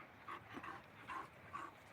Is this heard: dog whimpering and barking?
yes